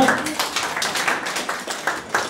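Guests at a Kazakh wedding celebration clap in scattered, uneven bursts, close and fairly loud, with a few voices mixed in.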